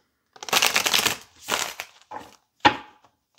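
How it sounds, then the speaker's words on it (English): A deck of tarot cards is shuffled up close in four quick bursts of riffling and sliding, the first long and the last a sharp snap, with brief quiet gaps between them. "Two more shuffles."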